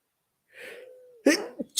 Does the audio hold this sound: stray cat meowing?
no